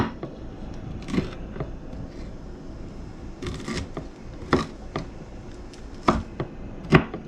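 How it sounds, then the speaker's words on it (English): A knife finely dices celery on a cutting board for potato salad, sounding as a series of sharp, close chopping taps that come in irregular bursts over a faint background hiss. "We're just going to run this knife across it, make sure we got it all finely diced up."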